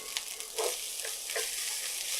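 Fried rice with dark soy sauce, sesame oil and sugar sizzles steadily in a pan, with a few soft scraping stirs of the spatula over a constant frying hiss.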